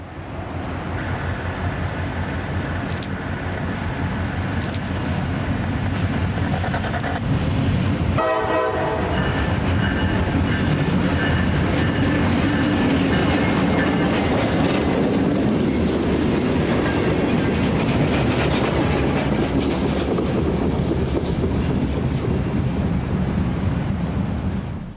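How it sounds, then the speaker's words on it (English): A daily local freight train with two covered hoppers passes nearby, a long horn blast opening it, followed by steady rumbling and clattering wheels that build and linger to the end, no voices. "L772 is a daily local that works customers between Carter Siding and Davenport."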